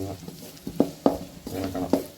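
A spoon stirs chili powder into beef curry in a pan, with a few distinct scraping knocks against the pot over a soft sizzle and background kitchen noise.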